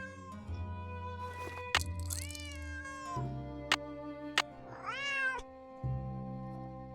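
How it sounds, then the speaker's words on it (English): A cat in the Nancy Drew: Secret of the Old Clock video game meows repeatedly, several drawn-out, wavering cries close and clear over quiet background music, with no talking. "Otherwise, he'll just keep meowing."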